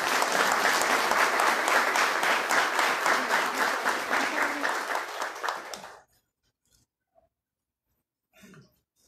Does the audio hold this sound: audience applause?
yes